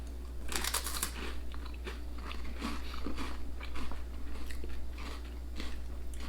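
Cheese-flavored crackers with peanut butter filling crunched and chewed close to the mic, a run of crisp bites followed by steady rhythmic munching over a low electrical hum.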